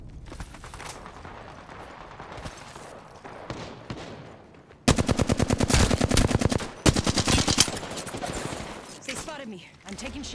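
Automatic weapons fire in the video game Apex Legends in loud, rapid bursts of shots, with a sustained stretch of close, continuous firing. Brief in-game voice lines come before the firing.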